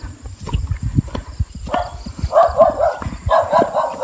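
Several dogs bark in short bursts, fairly close, over footsteps and rustling on a mountain squash patch; no talking.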